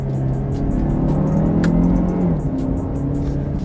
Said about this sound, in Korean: 재미도 없고 엔진 소리만 엄청 커지는 느낌